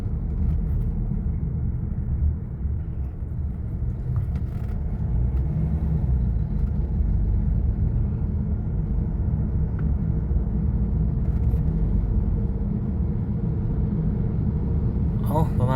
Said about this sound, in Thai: ประมาณนี้ทุกคนถ่ายรถติดให้เบิ่ง